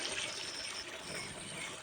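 Water poured steadily to fill containers for goats, a continuous trickling, splashing stream that holds at an even level from start to finish, close by, with no talk.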